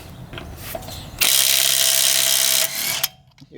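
A Bosch Freak impact tool hammers on a 130 foot-pound nut: a short loud burst of rapid impacting lasting about a second and a half, close up, followed by the motor winding down.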